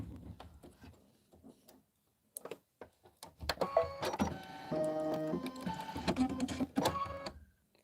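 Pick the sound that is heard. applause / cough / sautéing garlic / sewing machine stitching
sewing machine stitching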